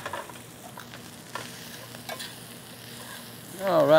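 Broccoli rabe cooking in a pan with a steady low sizzle and a few soft clinks of a utensil, ending in a louder burst of stirring; no talk.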